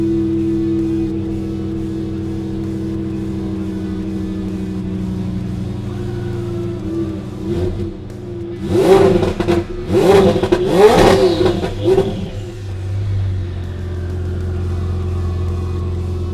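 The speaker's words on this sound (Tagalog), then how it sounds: "So, rev na natin hanggang mga 5K. That's how it sounds like." At an auto show, a cold car engine idles and then revs in several sharp bursts up to around 5000 rpm before settling back to a steady idle, heard close and loud with faint hall ambience.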